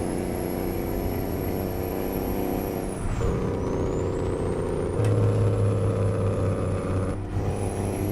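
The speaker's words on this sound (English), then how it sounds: "sound of the Jake brake here" A Kenworth truck's Jake brake in American Truck Simulator, heard through rolled-down windows as a loud, steady engine-brake drone with a high whine, shifting into a harder, deeper rumble partway through, with no talk.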